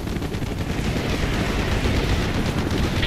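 Dense anti-aircraft fire in the Call of Duty: Black Ops campaign finale, a loud, continuous roar of rapid gunfire and booming bursts with no letup.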